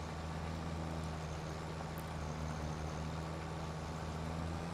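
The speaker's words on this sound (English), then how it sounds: "But yeah, this tractor has a nice sound to it." Tractor engine idling in the video game Farming Simulator 25, a steady low, even rumble heard alone at a constant level.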